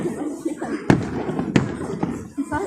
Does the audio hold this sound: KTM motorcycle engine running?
no